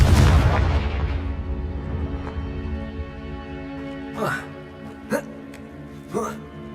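A Confringo fire spell bursts in Hogwarts Legacy with a loud booming blast at the start that rumbles away, followed by several shorter sharp crackling hits later on. Game music or voices run underneath.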